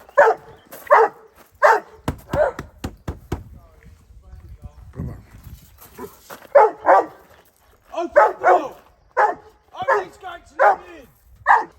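A Rottweiler barking during a staged home invasion exercise, with loud, close, deep barks coming in rhythmic bursts and short pauses between them.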